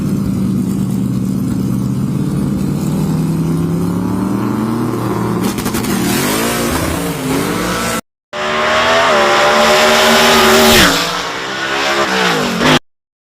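A blue Ford Mustang making a nitrous drag racing pass at a drag race championship, loud engine roaring up through rising gear sweeps, a cut, then another screaming high-rev run with shifts before stopping abruptly.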